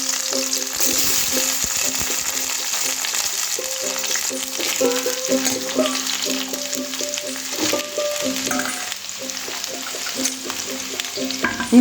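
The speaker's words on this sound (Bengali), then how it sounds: "এবার তেলের মধ্যে দিয়ে দেব ছোট ছোট করে কিউব করে কাটা পেঁয়াজ।" Small cubed onions hit hot oil left over from frying chicken, sizzling and crackling steadily for the whole stretch, with occasional scraping stir sounds and no voices.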